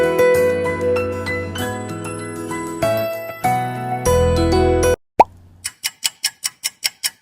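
An LG smartphone ringtone plays as a rich, sustained musical melody for several seconds, stops abruptly, and is followed by a short run of bright, evenly spaced ticking clicks.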